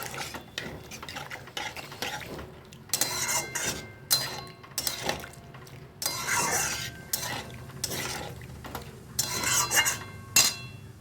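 A spoon clinks and scrapes in a metal pan while spices for a fish curry are stirred and fried in oil with a splash of spice water. It sounds like a series of irregular close knocks and rasps with a soft sizzle underneath.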